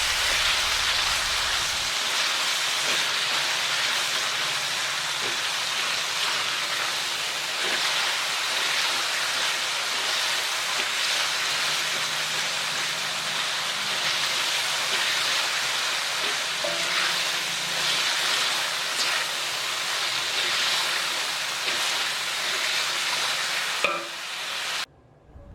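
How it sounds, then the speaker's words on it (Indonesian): Ground red chili paste and spices sauté in hot oil for Minang-style chicken gulai, a steady close sizzle and crackle with occasional stirring scrapes, continuous and fairly loud until it stops abruptly at the end. "Ini langsung ditumis kembali sampai juga mengeluarkan wangi yang sedap."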